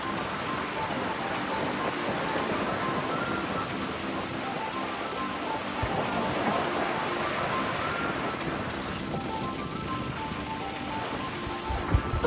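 Niagara Falls roaring as heard from the observation deck, a steady dense wash of falling water that stays loud and constant throughout.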